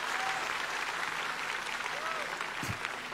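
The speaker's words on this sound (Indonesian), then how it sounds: "Yang bersuka cita berikan tepuk tangan buat Tuhan." A church congregation at a healing crusade in Turen breaks into loud, dense applause that carries on unbroken for the whole stretch, with a brief low thump near the end.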